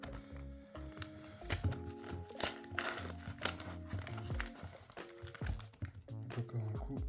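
A parcel's packaging is cut and forced open by hand, with close crinkling, tearing and scraping bursts in irregular rhythm throughout.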